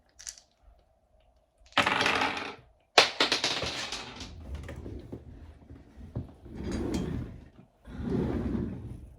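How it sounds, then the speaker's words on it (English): Tarot cards being shuffled and dice rolled on a table: bursts of dry riffling and clattering in several separate bouts, fairly close and alone, with short pauses of near-silence between them. "I shuffle the cards and roll the dice"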